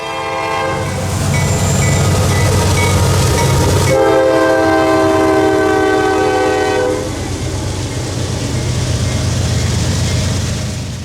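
A loud train horn blares in long chords over the heavy rumble and clatter of a 15,000-foot freight train with two GE locomotives up front and distributed power units, rolling close by in Folkston, Georgia.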